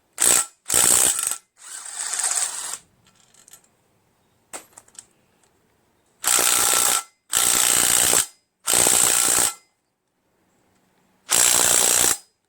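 Power tool breaking loose torqued bolts on a Briggs Intek 21HP engine, loud close ratcheting bursts of about a second each with short gaps and faint clinks of the bolts in between.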